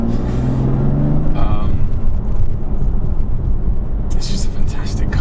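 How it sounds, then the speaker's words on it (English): A tuned BMW M2 Competition with a standard exhaust rumbles loud and steady as it drives, with a whoosh from its turbochargers rising partway through and a brief lighter rush near the end. "You can hear the turbos whooshing sometimes, and it sounds pretty cool."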